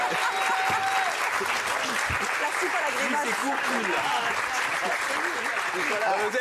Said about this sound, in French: Vous avez pas besoin d'applaudir